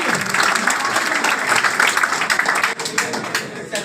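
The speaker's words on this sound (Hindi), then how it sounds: "बजाओ ताली।" Students in a classroom clap together on cue, a busy patter of many hands that stays fairly even before growing more scattered, with a few louder individual claps near the end.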